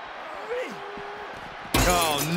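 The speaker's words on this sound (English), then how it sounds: "They just shattered the glass window." Glass window shatters on impact in the WWE 2K24 wrestling video game, a sudden loud crash near the end after a quieter stretch with a voice, followed by ringing, tinkling shards.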